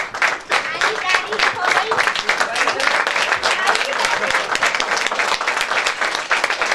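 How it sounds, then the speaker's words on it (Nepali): An audience at a church opening ceremony in Libang, Rolpa bursts into loud, sustained applause, dense rapid clapping from many hands filling the hall without pause. "हामी अत्यन्तै गडगडाटको तालीको साथमा कार्यक्रमलाई अगाडि बढाउँदैछौँ।"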